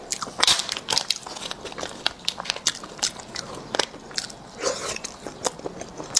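Crisp, close crunching bites into a salt-baked small roasted egg with a crackly outer skin, many sharp crunches in quick irregular succession with chewing between them, no talking.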